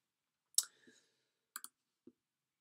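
A computer mouse clicks while cleaning cookies in TotalAV system tune-up software: a sharp double click, a quick second double click a second later, then one soft single click, all close and quiet.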